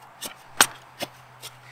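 Kitchen scraps chopped for a compost bucket make four sharp, evenly spaced chops, close and clear, with a low steady hum beneath.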